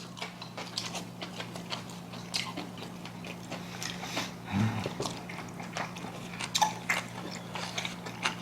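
Someone eats stir-fried white bellflower root with rice at a Korean holiday home meal, with close, soft chewing and small biting clicks repeating steadily and no talking.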